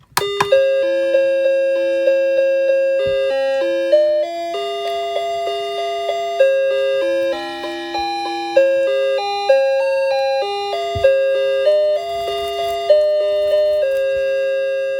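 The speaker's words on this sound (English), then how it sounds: "So here's the chime for 7 o'clock." A mantel clock chimes seven o'clock in a slow, ringing melody of sustained bell-like tones with regular struck onsets, steady and clear with no voices.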